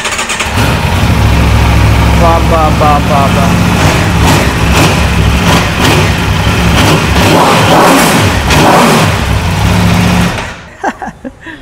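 A 2024 Aprilia RSV4 V4 superbike fires up close by and settles into a loud, rumbling idle, then sharp revs rise and fall before the engine cuts off. A voice briefly speaks during it.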